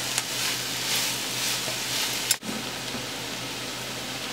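Onions softening in a pan for three-bean chili give a steady, gentle sizzle throughout, close and even, with one brief clunk midway as the pan or spoon is touched.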